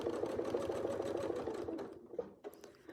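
Domestic sewing machine stitching free-motion quilting, a rapid steady needle chatter running close and loud for about two seconds before slowing into a few separate stitches and soft clicks.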